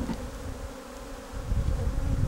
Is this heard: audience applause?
no